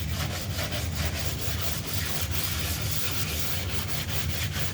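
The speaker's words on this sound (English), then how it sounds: "sanding board with a piece of 80 grit sticking on it" Steady rhythmic rasping of an 80-grit sanding board worked back and forth across a Gen3 Hemi engine deck, close and continuous with a rubbing, scraping texture and no voices.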